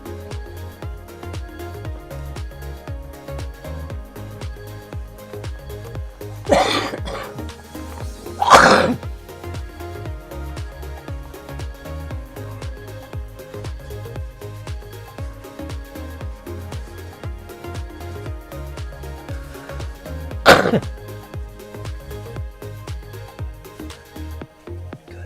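Three sharp, forceful coughs spaced apart over a steady low background hum, close by.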